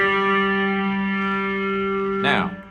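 A three-string cigar box guitar played through a Big Muff distortion pedal and a small Cube amp with heavy reverb holds a thick, buzzing sustained chord, then a brief scraping slide before the sound decays.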